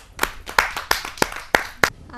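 Hands clapping at a Hindi kavi sammelan poetry gathering, a short burst of six or seven distinct claps spaced out over two seconds.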